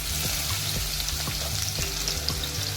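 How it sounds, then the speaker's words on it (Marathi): Garlic cloves crackle steadily in hot oil with cumin in a pan, a continuous bright sizzle with small popping bursts, close and alone without talk. "आणि आता आपल्याला लसूण टाकायचं आहे"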